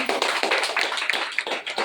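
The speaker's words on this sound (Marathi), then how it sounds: "पहिल्यांदा गवांडे सरांच्या साठी टाळ्या वाजवल्या पाहिजे का नाही" Continuous clapping from an audience applauding for Gawande sir at a patient gathering, dense and steady throughout, no voices over it.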